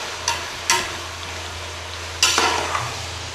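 Chopped tomatoes fry and sizzle in hot oil with cumin for a gourd and chana dal dish, a steady low sizzle punctuated by three or four sharp scraping stirs of a spoon against the pan.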